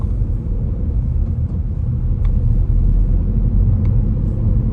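A car pulls away from a green light on a driving test route, its engine a steady low rumble that builds slightly as it moves off, close and continuous with no talk.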